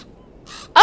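A bird in the video game Black Mirror III gives a single short, harsh caw, loud and close, after a brief quiet moment.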